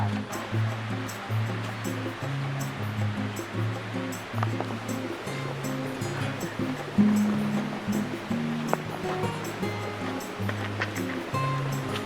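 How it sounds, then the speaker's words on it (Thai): A waterfall at Sam Lan National Park gives a steady, broad rush of falling water that stays loud and continuous throughout, with faint tonal sounds and rustling underneath. "เรามาถึงน้ำตกสามหลันกันแล้วนะครับ"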